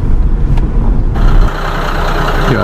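Heavy car and truck traffic rumbles loudly through Cologne city centre near the cathedral, a dense, close engine roar that eases slightly partway through, with no speech.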